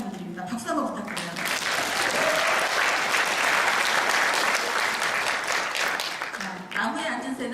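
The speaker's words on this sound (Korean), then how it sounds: "박수 한번 부탁드려요." An audience breaks into loud, sustained applause at a motivational business talk, dense clapping swelling for several seconds then tapering, with a speaker's voice heard before and after it.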